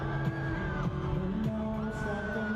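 Fans shriek and yell in a packed arena during day one of a fan concert at Smart Araneta Coliseum, a dense, continuous roar of high-pitched screams with music tones running underneath.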